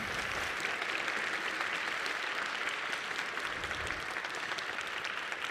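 A concert band audience at a high school concert gives a round of applause for a composer and his piece, a broad, steady wash of many hands clapping throughout, even and sustained with no speech over it.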